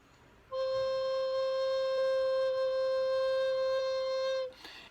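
A recorder sounds a single sustained low C, steady and clear for about four seconds with a breathy onset and cutoff, played alone.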